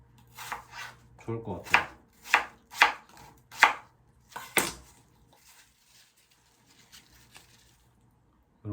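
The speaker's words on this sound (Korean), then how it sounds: "약간은 뭐 손톱 크기 정도, 손마디 크기 정도로 썰어 주시면" A knife chops ingredients into nail-sized pieces on a board during a cookie and pie baking class, sounding as seven or eight crisp, evenly spaced strokes that then stop. A voice speaks briefly near the end.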